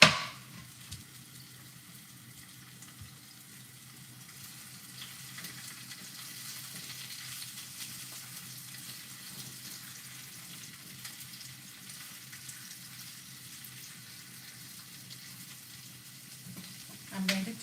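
Garlic fries in a pan for a Jamaican breadfruit and callaloo breakfast, making a faint, steady sizzle that continues throughout with no voices.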